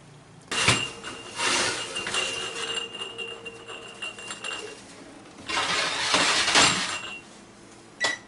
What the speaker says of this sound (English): So now it's time for me to pull the jars out of the oven.